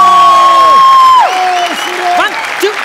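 Studio audience applause at a Marathi television comedy show, a loud sustained burst of clapping that runs under sliding musical tones throughout.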